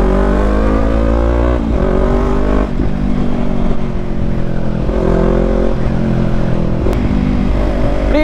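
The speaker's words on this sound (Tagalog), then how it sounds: "It's already traffic in here." Road traffic around a Yamaha MT-03 motorcycle, a continuous loud engine drone that rises and falls with revving and gear changes as other vehicles pass close by, with no speech.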